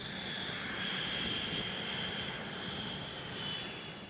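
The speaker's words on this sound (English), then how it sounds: "The aircraft receives power from a Pratt & Whitney F100 turbofan engine" A jet aircraft, an X-47B with a Pratt & Whitney F100 turbofan, roars steadily and loudly throughout, a sustained broadband rumble with a whining high tone, no voices.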